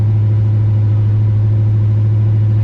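A car named Chip runs steadily while a learner drives, giving a loud, constant low engine hum with a strong steady tone and no audible rev changes.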